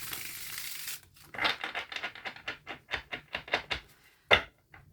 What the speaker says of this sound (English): So it's just this little thing I say as I shuffle.